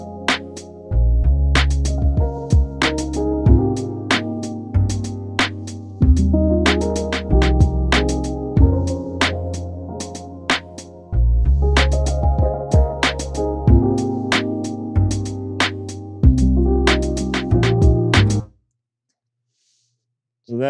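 A lo-fi hip hop sample melody plays loud and alone, with repeating chord stabs over a low bass line in phrases that loop for about eighteen seconds, then stops abruptly before a brief restart.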